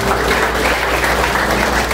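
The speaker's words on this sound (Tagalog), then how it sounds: "Mas malakas na palakpak. Palakpak na magpapasalamat sa ating buhay at tunay na Diyos." A church congregation claps in praise during a service, with dense, continuous applause from a crowd filling the space at close range.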